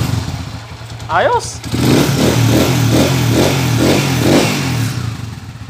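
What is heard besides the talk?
motorcycle engine revving with new timing gear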